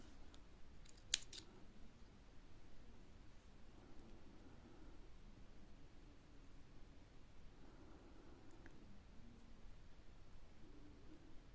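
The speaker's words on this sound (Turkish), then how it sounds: "ipimi kesiyorum" Scissors snip crochet thread, one quick, faint, close cut early on, followed by quiet handling rustles in a near-silent room.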